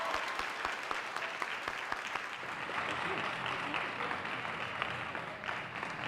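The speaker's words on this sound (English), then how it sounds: "So I want you guys to please give a huge round of applause to Director Lisa Mallory" An audience applauding steadily after a presenter is introduced at a mayor's youth leadership institute election results event, with dense sustained clapping and a few sharper individual claps standing out near the front.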